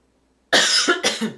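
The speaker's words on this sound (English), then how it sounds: "Sorry for coughing." A single close burst of coughing, two or three quick harsh hacks after a moment of silence.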